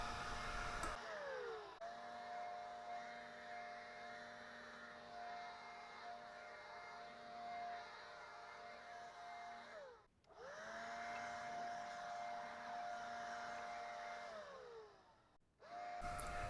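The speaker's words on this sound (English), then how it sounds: "This blower makes it easy to clean off some of the remaining debris." A motorized leaf blower runs loud and close while clearing debris from a small lined pond, holding a steady droning whine that cuts out and revs back up twice.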